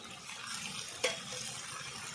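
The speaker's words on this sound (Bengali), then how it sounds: "ভালো করে একসঙ্গে তিন থেকে চার মিনিট আমি একসঙ্গে কষিয়ে নেব ভালো করে" Chopped tomato with salt and turmeric sautés quietly in a pan for a rui fish curry, a faint low sizzle broken once by a single sharp clink of the spoon midway.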